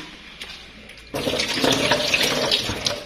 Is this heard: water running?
yes